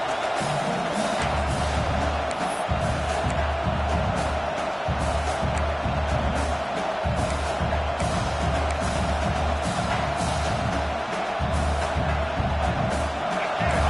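Stadium crowd at a college football game between WW and Alabama roars steadily as the defense holds in the red zone, a continuous loud wash of cheering with some voices standing out.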